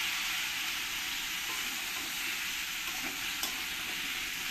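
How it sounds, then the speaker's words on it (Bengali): Steady sizzling of ash gourd being stirred into browned fried potatoes in a pan, a continuous close hiss with faint scrapes of stirring. "চাল কুমড়োটা দিয়ে আলুর সঙ্গে ভালো করে আমি মিশিয়ে নেব"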